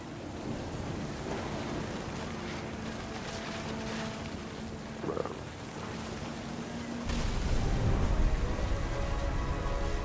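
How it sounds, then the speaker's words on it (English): Steady rain with rumbling thunder in the What Remains of Edith Finch video game, a continuous wash of downpour that swells louder and heavier in the last few seconds, with no talking. "Thunder sounded much too close and full of angry power."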